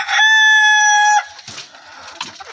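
A farm rooster gives one loud, close, sustained crow, followed by softer clucks and rustling from other farm chickens nearby.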